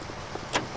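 A single brief car-door thunk sounds as a character climbs into a vehicle in the video game L.A. Noire, a short muffled hit over a steady low background hum.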